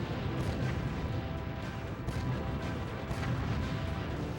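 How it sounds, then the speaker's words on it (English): Tank cannon fire and crumbling buildings in the N64 game BattleTanx, a continuous wash of booms, crashes and explosive rumble with several sharper impacts, fairly quiet. "I'm just destroying some buildings here to help clear out the area"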